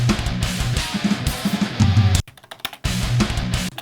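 Edited drum track played back in Cubase, with kick and snare hits in a steady rock groove, loud and dense, cutting out briefly to near silence before resuming.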